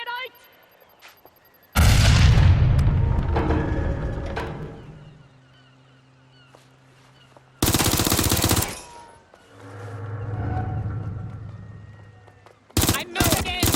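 A frag grenade blast among bursts of gunfire in the video game Watch Dogs Legion: three loud, sudden eruptions separated by quieter rumbling stretches, with shouted voices in between.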